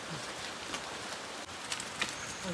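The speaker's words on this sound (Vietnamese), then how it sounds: "Chỉ còn những giọt mưa phùn nhỏ," Light drizzle falls outdoors, a faint, steady patter with occasional soft drop sounds, quiet and continuous without any talk.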